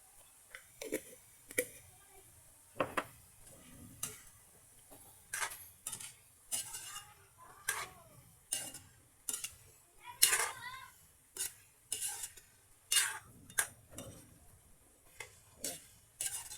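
Mixed vegetables sautéing in a home pan with spices, salt and pepper, a quiet sizzle under repeated rhythmic scrapes and taps of a spoon stirring, each stroke about a second apart.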